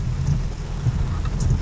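A thunderstorm in Los Angeles, California, heard from inside a Roush Mustang, gives a steady wash of rain with low rumbling thunder throughout. No voices are heard.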